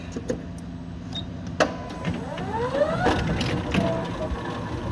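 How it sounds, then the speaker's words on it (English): A Crown RC5500 electric stand-up lift truck being test driven backwards and forwards, giving a whirring electric drive hum with rising and falling motor whine and a few clunks, close and steady. "Let's test drive the truck."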